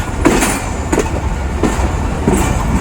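Badar Express passenger train running on the Shahjahan branch line from Lahore to Faisalabad, heard from behind the locomotive: a steady loud rumble of wheels on rails with periodic clicking joints, roughly every second, and no talk.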